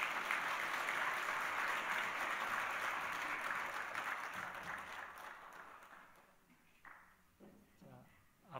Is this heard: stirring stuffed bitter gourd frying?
no